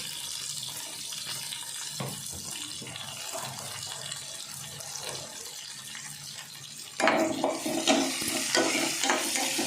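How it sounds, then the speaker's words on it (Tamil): Chopped onions and green chillies frying in a pan for chilli chicken gravy, a steady close sizzle with stirring scrapes, growing louder and busier in the last few seconds, with no one speaking. "இப்போ இதை நல்லா ப்ரௌனிஷ் ஆகிற வரைக்கும் ஃப்ரை பண்ணி விட்டுக்கலாம்."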